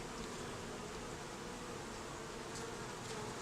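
Honeybees drone softly and steadily around an open hive during a first inspection in an Alaskan rainforest, a faint, even buzz with no voices.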